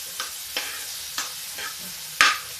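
Chopped tomatoes sizzling in a pan for Rajasthani dal, with a spoon stirring in about five separate strokes, the last one louder and scraping, over a steady frying hiss.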